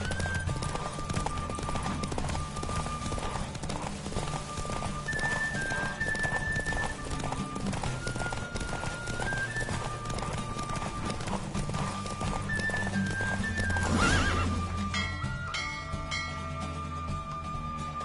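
Rapid hoofbeats clatter steadily as a horse gallops in The Witcher 3, with music playing underneath and a loud neigh rising near the end.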